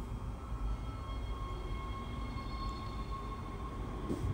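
A tram in Dead Space arriving at its station, a steady low rumbling rail drone with faint metallic tonal hums, heard alone and fairly quiet.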